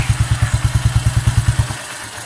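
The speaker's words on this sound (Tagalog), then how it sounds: "natapos na rin natin yung motor na maingay kanina. So, ito na siya ngayon. Pakinggan nyo." A Honda 110cc motorcycle engine, repaired after a connecting rod fault, idles steadily with a rapid, even putter of low thumping pulses, close and fairly loud, no voices.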